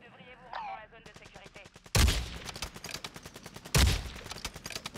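Gunfire in the Warzone 2 video game: two loud blasts break out over rapid automatic bursts, close and sharp, while a voice speaks briefly at the start.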